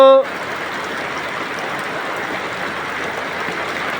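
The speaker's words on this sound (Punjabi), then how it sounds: "ਅੱਜ ਇਹ ਵੀ ਝੜੀ ਲੱਗੀ" Steady monsoon rain during the Sawan season in Punjab falls as a dense, even hiss that holds unbroken throughout, after a brief tonal sound at the very start.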